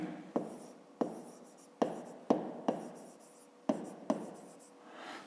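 A pen writes on paper while a maths exercise is worked out, giving a close, quiet series of sharp taps and short scratchy strokes in an uneven rhythm, about eight marks over five seconds.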